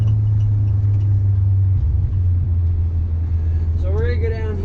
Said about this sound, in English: I'm going up a hill again, I'm losing a little power, so I'll left throttle real quick, dump the clutch, drop down one gear